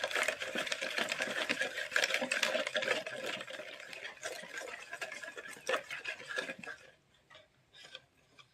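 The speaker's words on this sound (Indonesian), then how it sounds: "Dan kita aduk-aduk sampai seluruh komponen di dalamnya tercampur." Spoon clinking and scraping in a bowl as water is stirred into Bangka-style martabak manis batter, a quick, close, rattly rhythm that stops abruptly near the end, leaving faint taps.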